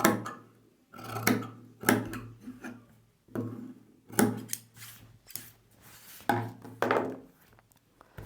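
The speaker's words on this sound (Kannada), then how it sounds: "ಸ್ಟ್ರೈಟಾಗಿ ಕಟ್ ಮಾಡ್ಕೊಳ್ಳಿ" Scissors cutting plain blouse fabric in straight lines, a series of crisp, close snips in uneven clusters separated by short pauses, quiet and alone without talk.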